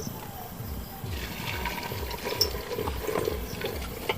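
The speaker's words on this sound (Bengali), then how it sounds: "এই ফুটন্ত জলটা নিয়ে আমি মাংসতে দিয়ে দেবো" Boiling water is poured from a vessel onto mutton for biryani, giving a continuous close gurgling splash with a rhythmic sloshing pulse, and faint background noise underneath.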